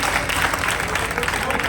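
A crowd at a Brahmin dharamshala temple foundation ceremony breaks into dense, continuous applause, loud and close, filling the whole short stretch without a break.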